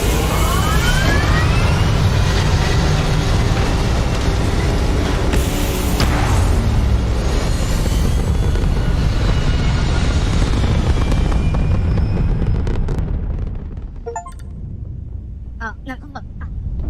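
Spaceship lifting off in the video game Starfield: a loud, sustained engine roar with a rising whoosh fills most of the stretch, then thins to a quieter hum with faint electronic chirps near the end while a person talks over it.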